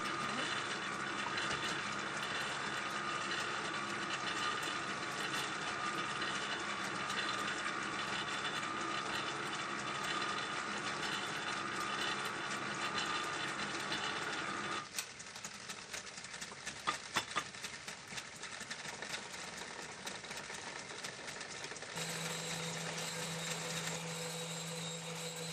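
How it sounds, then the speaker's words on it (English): A 1907 treadle lathe converted to an electric motor runs steadily with a dense, continuous mechanical whir and hum, close and loud, shifting character partway through and settling into a steady tone near the end. "An old treadle lathe that I converted to electric motor"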